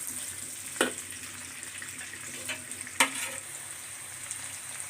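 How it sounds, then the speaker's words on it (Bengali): Onion frying in oil with bay leaf, a steady low sizzle with soft crackle, broken by two brief louder stirring scrapes of a utensil against the pan. "এখন আমি তেজপাতা দিয়ে পেঁয়াজটাকে কতক্ষণ ভেজে নেব।"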